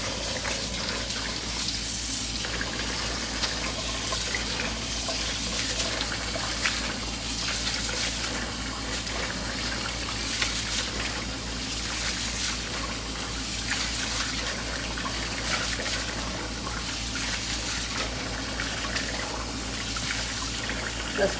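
Water runs steadily from a tap while rice is washed, a continuous close splashing and trickling with no talking.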